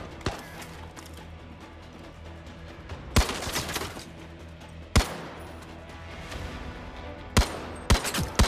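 Gunfire in the shooter Zero Caliber: a handful of sharp, isolated shots cracking out at irregular intervals over quiet background, with a quick pair near the end.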